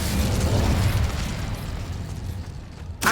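An Incendio fire spell bursts in Hogwarts Legacy, a loud fiery explosion with a crackling rumble that fades over a few seconds, followed by a sharp new burst at the end.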